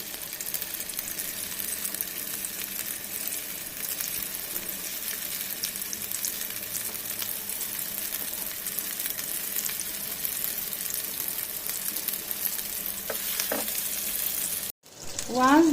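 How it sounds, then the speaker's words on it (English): Round chicken meatballs shallow-fry in hot rice bran oil with a loud, continuous close sizzle. It cuts off abruptly near the end and a louder bump follows. "We don't deep fry the meatballs, just shallow fry them."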